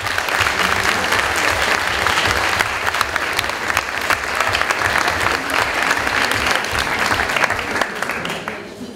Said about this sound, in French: j'espère surtout que vous allez faire un tonnerre d'applaudissements pour eux